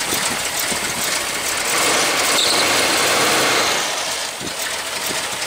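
A 1982 car engine with a Thermo-Quad carburetor idles after a cold start, a steady, loud broadband running drone held evenly throughout with no talk over it.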